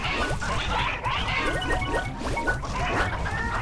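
Roosters clucking in Slime Rancher, a dense, continuous chorus of busy bird calls from a large flock, steady and fairly loud with no talk.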